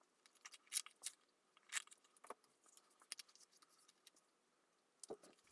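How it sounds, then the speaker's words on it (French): Small scissors snip small pieces of craft paper for a miniature scrapbooking drawer, with several crisp, close cuts spaced irregularly in a quiet room. "je coupe 4 petits morceaux, 2 pour l'extérieur, 2 pour l'intérieur."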